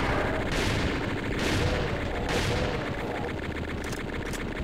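Gunfire in the video game Doom TNT Evilution: repeated blasts at roughly one-second intervals over a dense, constant noisy game background, moderately loud and without talk.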